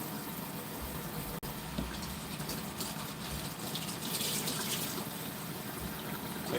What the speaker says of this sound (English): Gonna get some hot water going.